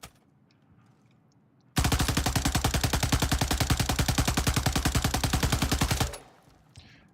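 Rapid automatic weapon fire from a gun being tested with a horizontal-recoil attachment at a video game firing range, one sustained, evenly pulsing burst of about four seconds, loud and close, between quiet stretches.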